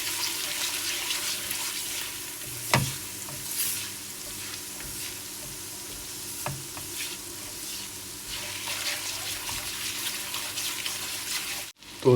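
Turmeric and red chili powder are stirred into the pan for kadhi pakora, with a steady sizzle and occasional scraping knocks of the spoon close by. No one speaks.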